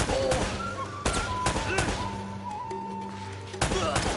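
Video game gunfire: a few sharp, separate shots punctuate a dense game soundtrack, and players talk over the action.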